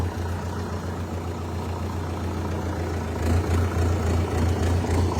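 A tractor engine idles close by, a steady low mechanical rumble that holds even for about five seconds and swells slightly louder toward the end, with no voices.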